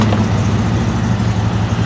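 CFMOTO UForce 1000 UTV engine running steadily after the key is cycled back on, a continuous low hum with no change across the whole stretch.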